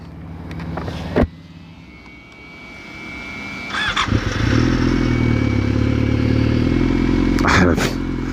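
A motorcycle engine cranks and catches after a short pause, idles, then revs and pulls away close by, growing into a steady loud drone. Brief talk is heard before it starts.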